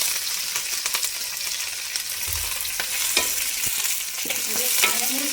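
Half an onion frying in fat with green chillies and curry leaves for a fish curry, a continuous bright sizzle close by, with a scraping spoon stirring at intervals; no speech.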